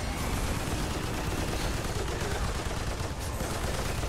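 Automated turrets in Remnant II firing a steady rapid stream of shots, dense and loud and unbroken for the whole stretch.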